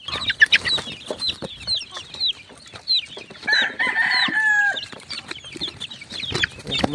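A mother hen and her chicks in a small backyard coop: high, thin chirps repeat in quick bursts, mixed with clucking and scattered soft rustling, close and moderately loud.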